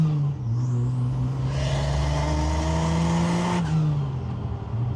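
A turbocharged Jeep engine revs steadily at half throttle, a loud, sustained drone that climbs in pitch, holds high for a couple of seconds, then drops back toward idle.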